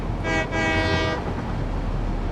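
A train running on rails in the video game Satisfactory sounds a loud, tonal horn blast over a steady rumbling roll that carries on after the horn stops.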